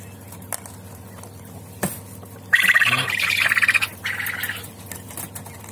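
Golden Phoenix quails, a large-bodied breed of young birds, give a burst of rapid squawking chirps close by, a rattling flurry of calls lasting about two seconds, preceded by a sharp knock and quiet pen noises.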